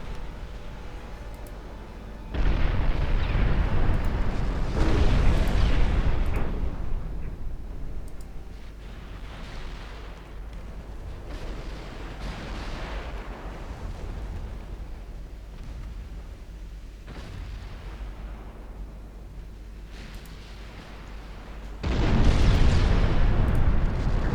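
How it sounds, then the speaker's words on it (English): Seven-inch naval guns fire in the Ultimate Admiral Dreadnoughts warship game, heavy booming salvos in several bursts over a constant low battle rumble, with no talk. "those 7-inch guns just melting the crescent"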